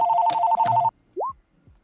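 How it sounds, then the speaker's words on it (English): An incoming phone call rings with a short double electronic ringtone burst, two tight pulses in quick succession, followed by a brief rising blip and then quiet. "I'm getting a phone call."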